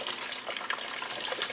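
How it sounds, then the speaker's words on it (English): Water gushes steadily into a bucket holding cucumber seeds for washing, a continuous close splashing pour with no voices. "Now put some more water in the bucket"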